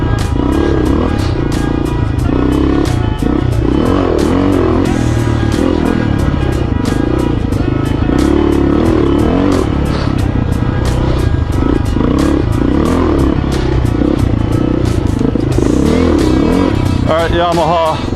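A Yamaha motorcycle engine revving and pulling hard while riding, loud and close for the whole stretch, with a steady rough drone and rising and falling revs.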